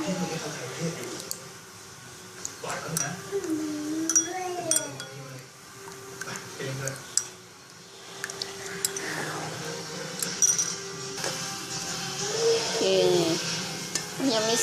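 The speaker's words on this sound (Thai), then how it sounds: "ระหว่างเราเราก็มาคน แป้งมันให้มันไม่แข็งตัวนะ" A tapioca starch mixture is stirred in a pan for a pork gravy noodle dish, with soft scraping and squishing strokes mostly under a person talking, plus a few light clinks.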